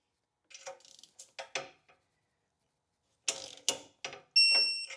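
A socket wrench ratchets as bolts on an 80 Series Land Cruiser's catalytic converter are brought to final torque, giving short bursts of rapid clicking close by, pausing, then several more clicking bursts, with no talk.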